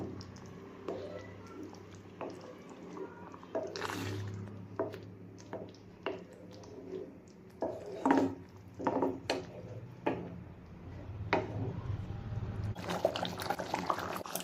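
Spices and ground cumin being gently stirred into a paneer butter masala gravy, giving soft wet squishes and light clicks of the spoon at an irregular pace, fairly close, with a brief splashy burst at the end.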